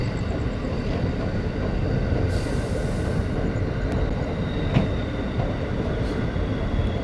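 A train runs along a suburban railway at night between Khardah and Dum Dum. A steady, loud rumble of wheels and carriages continues throughout, with brief sharper clanks and rattles over the track. No voices are heard.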